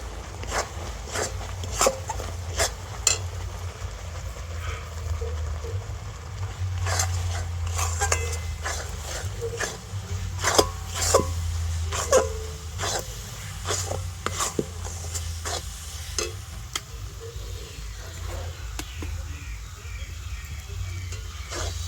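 Ground rice is stirred little by little into thickened milk for sandesh, making repeated rasping scrapes of a utensil against the pan over a low steady burner hum, close and fairly quiet.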